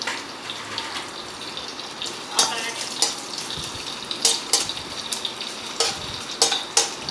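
Dried red chillies fry and sizzle in hot oil for a jonna gatka tempering, a steady crackle with a few sharper spits and pops, close and moderately loud, with no talking.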